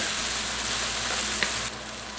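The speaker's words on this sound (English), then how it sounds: "I'm going to cook these onions for about another minute or two" Onions with black pepper frying for a chicken jalfrezi curry give a steady, dense sizzle that runs close and continuous, with a brief clink near the end and no voices.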